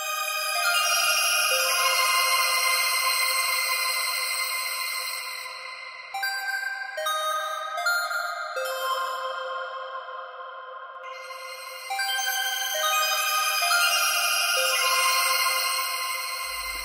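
A NuRack vocoder with its feedback module switched on, producing a dense, sustained harmonic synth tone with ringing upper overtones, loud and continuous throughout, dipping slightly in the middle and swelling back at the end, no voices.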